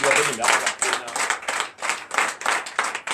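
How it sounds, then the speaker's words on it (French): A church congregation at a Sunday worship service clapping in rhythmic waves, loud and close, with the claps pulsing roughly in time and voices mixed in. "je vous demande d'applaudir très très fort"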